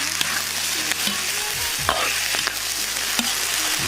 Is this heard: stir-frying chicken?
yes